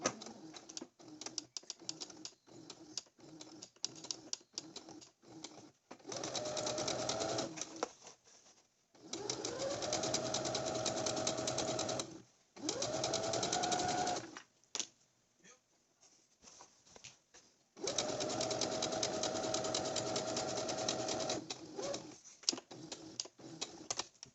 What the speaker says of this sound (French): Et donc ensuite on peut coudre un bon centimètre à peu près du bord.